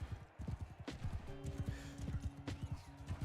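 Horses in a medieval Mount & Blade battle clop their hooves in a rapid galloping rhythm alongside a sustained tonal hum and scattered clashes, loud and close.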